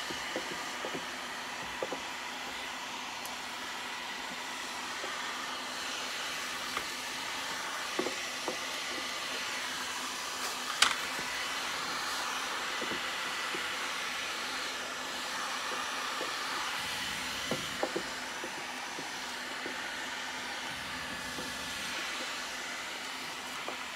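A heat gun warms the corners of tint film being applied to a car headlight, giving a steady, close, continuous blowing whoosh for the whole stretch, with a few faint clicks and taps and no talking.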